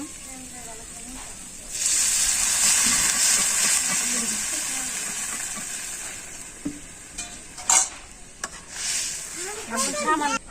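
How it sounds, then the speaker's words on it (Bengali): A curry of vegetable stems and potatoes simmers in a pot, a continuous hissing bubble close by that grows louder partway through, with brief knocks and a voice heard faintly near the end. "এই যে ডাটার আলু তরকারি আমার ফুটানি এসে গেছে"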